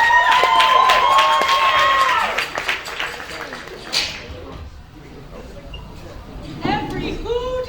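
A school audience at a Grinch reading cheers and applauds loudly for a couple of seconds, then the noise fades into scattered claps and murmuring, with a voice speaking over the start and a brief burst of cheering near the end.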